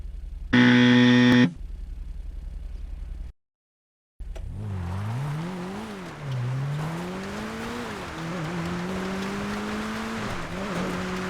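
The Karin Futo in a racing video game: a loud synthetic engine note that revs and shifts pitch, preceded by a brief buzzing tone and a short silence, then continuing as a steady driving drone.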